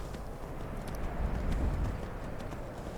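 Horse hooves clop in a regular rhythm while riding in the video game Skyrim, a continuous galloping thud under a low ambient rumble, moderately quiet throughout.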